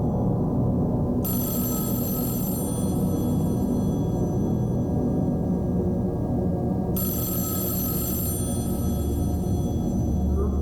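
A telephone rings twice in the Mothered video game, each long shrill bell ring separated by a pause, over a steady low droning background hum.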